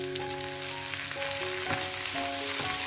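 Tomatoes tossed into a pan with frying onions and mint leaves for a tomato coriander chutney, giving a steady close sizzle with brief stirring scrapes partway through.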